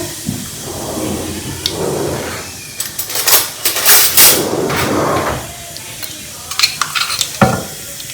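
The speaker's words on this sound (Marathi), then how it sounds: "मस्त लसूण टाकायचं आहे आणि चांगला क्रिस्पी होऊ द्यायचा लसूण छानपैकी" Cumin, mustard seeds and garlic sizzle and crackle in hot oil in a pan, with a steady hiss, louder bursts of popping spitting in the middle, and a few metallic stirring knocks against the pan.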